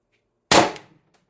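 A single sharp crack from an Umarex TR50 air rifle powered by high-pressure air and fitted with an 8-inch sniper barrel extension, loud and close with a short decaying tail, alone against silence.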